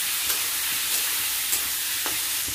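Onion, cauliflower and potato fry together in a pan with a steady bright hiss. Light clicks from stirring come at a regular pace, roughly every half second, with no speech.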